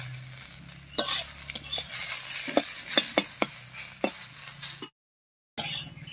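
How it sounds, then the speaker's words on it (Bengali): Tender ash gourd slices frying in a pan, with a steady close sizzle broken by a series of sharp scraping stirs and spatula knocks, then a brief total dropout before the sizzling returns. "চাল কুমড়ো ভাজাটা প্রায় হয়েই গেছে।"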